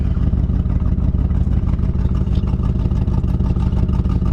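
A 1966 Lincoln Continental engine with an exhaust leak idles steadily at close range, with a rapid, rough puffing pulse running through its low rumble.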